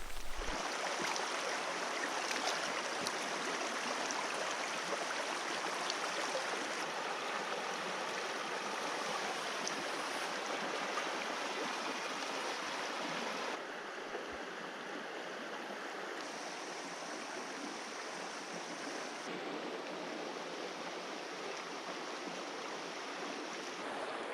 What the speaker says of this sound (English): I hope you can hear me above the sound of the river.